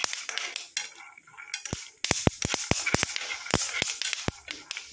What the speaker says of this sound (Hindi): इनको तेल में भून लेंगे।